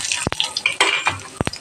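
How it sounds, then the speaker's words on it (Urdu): Cumin, garlic and chillies sizzle in hot oil for a dal tadka, a brief crackling burst with a couple of sharp clinks from a spoon or pan, close and fairly loud. "یہ دیکھیں جی تڑکا ہماری دال کو لگ چکا ہے۔"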